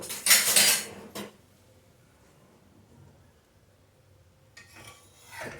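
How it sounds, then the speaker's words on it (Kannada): A ragi rava dosa being flipped on a hot pan gives a short burst of metal spatula scraping and clinking against the pan at the start. Quiet follows, then another brief scrape near the end. "ಚೆನ್ನಾಗಿ ದೋಸೆ ಬೆಂದಿದೆ ಈಗ ಇದನ್ನು ತಿರುವಿ ಹಾಕ್ಕೊಳ್ಬೇಕು"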